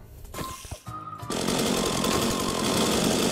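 A chainsaw in Minecraft roars up after a brief stuttering start, then runs loud and steady with a harsh buzzing rattle to the end.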